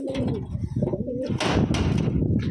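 Wantai pigeons coo repeatedly, close and fairly loud, with soft overlapping throaty calls from several birds at a pigeon loft.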